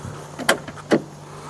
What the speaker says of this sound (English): One thing that's very important with any car is a door that opens up so you can get inside.